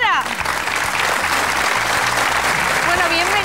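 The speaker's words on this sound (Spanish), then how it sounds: "Un aplauso para la agrupación folclórica Guajara." Audience applause for the Guajara folk music group at a gala, a steady dense wash of clapping that fills the whole stretch, with faint voices mixed in.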